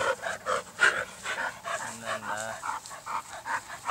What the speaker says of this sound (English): watching the dogs fight